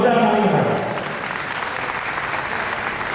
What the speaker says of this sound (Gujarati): જોરદાર તાળી પાડો.